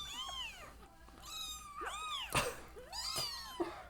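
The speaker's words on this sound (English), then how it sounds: "Kitten versus kitten." Several high, thin kitten meows, one after another in quick succession, close and fairly clear against a quiet background.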